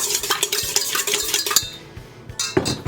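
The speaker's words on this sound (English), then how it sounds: "you're going to mix the sugar, egg yolks, and vanilla together" Sugar, egg yolks and vanilla being stirred together in a bowl for strawberry shortcake, a quick run of clinking, scraping utensil strokes, a brief pause, then more stirring close by.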